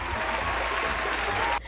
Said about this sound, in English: Let's give a round of applause for Not So Nice Studios video